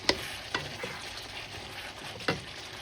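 Pork belly and chili being stirred in a frying pan, with a soft continuous sizzle broken by a few sharp scraping strokes of the utensil, close and quiet with no voices.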